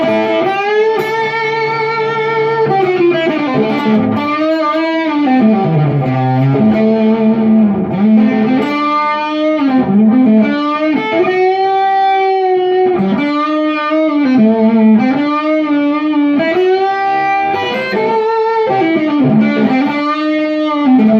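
A tube amp plays distorted electric guitar with the reverb switched off, giving loud, dry phrases of sustained, gritty notes and chords with no background voices.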